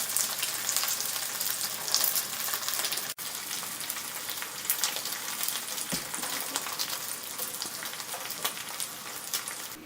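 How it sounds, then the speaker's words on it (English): Tofu skin spring rolls pan frying in oil, a steady dense sizzle with crackling pops that carries on throughout, with no voices. "So here we have some tofu skin rolls that have been pan fried."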